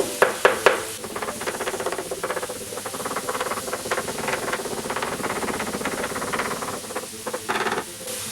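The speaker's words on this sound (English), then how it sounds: "I'm just going to do a little bit of slicing and dicing here, just to break up the meat" Chili meat sizzling in a hot pan with onions and garlic as it is chopped and broken up, a steady loud hiss broken by a few sharp scraping taps at the start and near the end.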